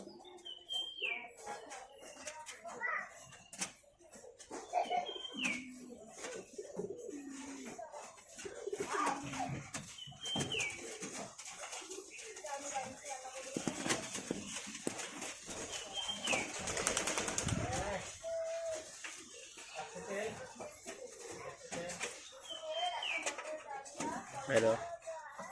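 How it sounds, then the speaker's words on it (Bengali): Mukhi pigeons coo repeatedly while eating lentils, with soft rolling calls and a few chirps over steady background voices. "দেখতে পাচ্ছ মুখী পায়রাটা ডাল নিচ্ছে মুখে"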